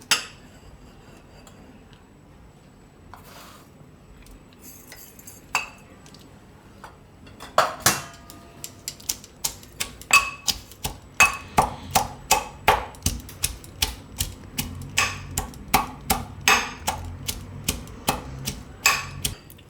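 Coriander and cumin seeds pounded by hand, sharp regular thuds coming in a fast steady rhythm after a quieter opening with a few scattered knocks, close and loud.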